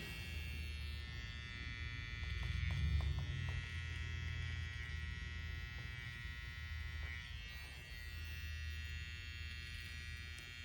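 A barber's electric hair trimmer buzzes steadily while lining up a fade haircut, a close continuous motorized drone with a slight rise in loudness midway and faint clicks from handling.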